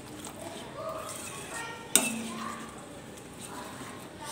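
Thick spinach-paneer spice paste with kasuri methi sautéed in oil in a pan, giving a soft continuous sizzle with scattered utensil scrapes and one sharp metallic clink near the middle.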